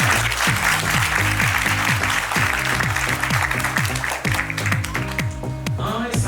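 Applause from a crowd for a young actress at a March 8 stage show in Haiti, a dense steady wash of clapping over rhythmic music with a repeating bass line throughout.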